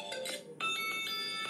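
A stock ringtone plays on a Tecno Spark 7T phone, a bright melodic sequence of clean electronic tones in a short rhythmic pattern that briefly dips before resuming, clear and close with no talk.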